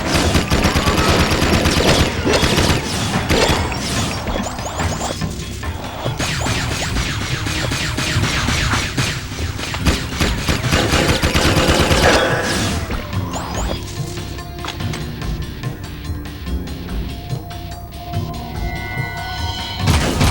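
Vulcan Fury gunfire in the video game Jak II, a dense, loud barrage of rapid shots mixed with smashing impacts and whooshes that continues almost without a break.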